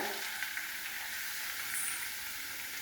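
Crushed ginger and garlic fry in a pan for a tuna pickle, making a faint, even sizzle with a soft continuous hiss and no talking.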